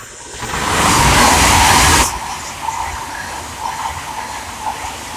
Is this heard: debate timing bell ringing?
no